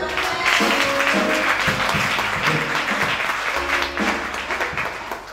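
A church congregation applauds together, dense continuous clapping with music in the background, sustained and loud throughout.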